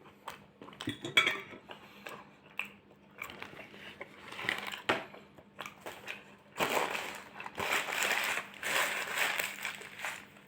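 Someone eats a burrito with cheese and onion up close, giving soft crunchy bites and wet chewing in irregular bursts, with faint clinks of cutlery or dishes.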